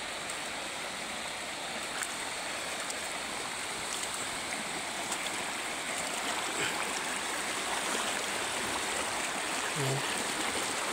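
Strong floodwater rushing along a swollen river, a steady, dense roar of flowing water that holds constant and fairly close for the whole stretch, with no voices over it.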